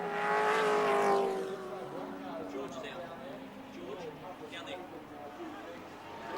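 A race car at the 1984 ATCC round at Wanneroo accelerates past, a rising engine howl that peaks early and fades into the distance, with a commentator talking over it throughout.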